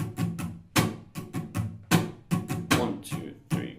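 An acoustic guitar strummed in a quick rhythmic pattern, about a dozen crisp strokes with accented downstrums, played close and alone.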